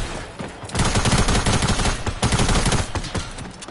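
Sustained rapid gunfire in a video game, shots aimed at player-made builds, loud and close in dense automatic bursts that continue almost without pause, with no talk over it.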